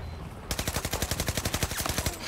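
Rapid automatic gunfire in the shooter Battlefield 2042, a loud close burst of evenly spaced shots lasting nearly two seconds with no talk over it.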